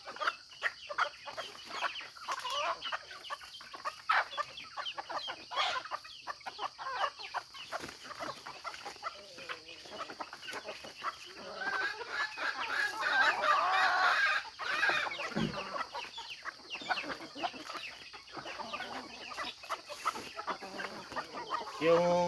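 A mother hen released for the first time with her nine chicks, clucking steadily in soft, repeated calls alongside scattered high peeps and other farmyard chicken sounds, with someone talking intermittently over them.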